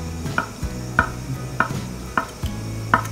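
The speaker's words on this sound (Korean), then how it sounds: "그냥 먹기 좋은 크기로 썰어주면 될 것 같아요" A knife cuts tofu into bite-size pieces. Five evenly spaced, fairly loud thuds of the blade land on the board about every 0.6 seconds, with a low steady hum underneath.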